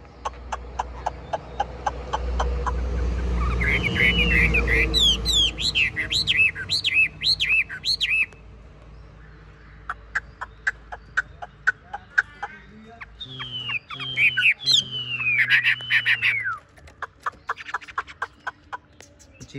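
A Tam hoàng songbird sings from its cage in bursts of looping whistled phrases over steady background noise, with chicken clucks and other bird chirps mixed in nearby.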